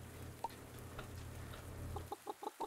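Chickens in the farming game Pumpkin Days give a few short clucks, sparse at first then a quick run of four or five clipped calls near the end over a low steady hum, no talk.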